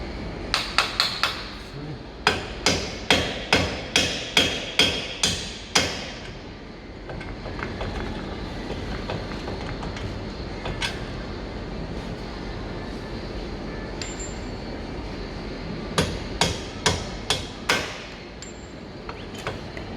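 A copper hammer strikes driveshaft parts on a 2018–2019 Opel/Vauxhall Astra-K 1.4 Turbo in repeated sharp metallic blows, a fast run of about a dozen, a lull, then another burst of hits, close in a quiet workshop with no talking.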